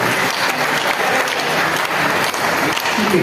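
Dense, steady audience clapping at a devotional discourse, a continuous wash of many hands that stays loud and even throughout, with no clear pauses.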